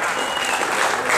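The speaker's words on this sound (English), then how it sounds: "How about a big round of applause?" Applause from a crowd at a bowling hall of fame induction ceremony, a brief loud wash of many hands clapping together, with voices mixed into the clapping.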